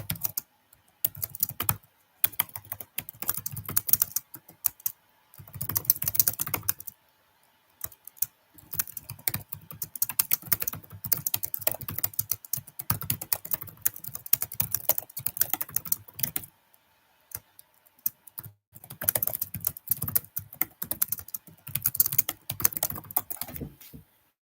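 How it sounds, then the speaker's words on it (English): Fingers clatter over a computer keyboard in quick bursts of clicky keystrokes, broken by short pauses, close and steady with no talking. "I'm just gonna try and type this up again here."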